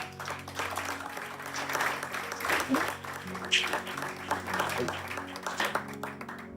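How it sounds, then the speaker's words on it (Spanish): Worshippers in a church clap along during a service, a soft, irregular patter of many hands mixed with music and voices, somewhat distant and low in level. "Te doy un aplauso al Señor."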